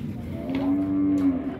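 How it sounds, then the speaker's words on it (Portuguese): A dairy cow at a cattle market in Dois Riachos, Alagoas, lets out a single drawn-out moo, fairly close and clear over a soft background murmur. "uma vaca bacana aí"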